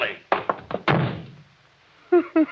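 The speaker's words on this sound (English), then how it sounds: "You shouldn't have slammed the door, Crane." A door slams shut in an old radio mystery drama, a sharp heavy thud among a few knocking impacts, with someone talking just after.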